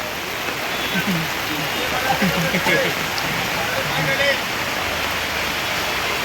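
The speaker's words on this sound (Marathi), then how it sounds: "पाऊस खूप जोराचा पडायला लागलेला आहे" Heavy monsoon rain pours down over a weekly outdoor market in Rajapur, a dense steady hiss of drops drumming on surfaces, with faint voices murmuring underneath.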